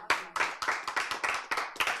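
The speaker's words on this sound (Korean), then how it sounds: "박수 쳐, 박수." A group of people claps hands together in a steady, brisk rhythm, about four claps per second, loud and close, during a Korean church gathering.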